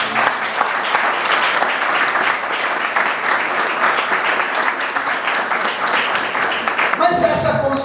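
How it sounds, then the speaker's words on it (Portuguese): A church congregation applauds during a Portuguese-language sermon, a dense, loud, sustained wash of clapping that fills the whole stretch before a voice comes in at the very end. "Aplauda o nome de Jesus"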